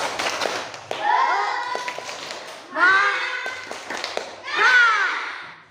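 A classroom of students performs the tepuk semangat clapping chant, loud voices shouting together in three rising phrases broken up by sharp rhythmic hand claps and taps.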